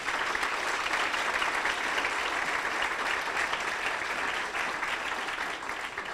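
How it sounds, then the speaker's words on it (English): A symposium audience applauds in a steady, dense wash of clapping that holds at an even level for several seconds before easing slightly at the end. "Another huge round of applause for Bob and Diane."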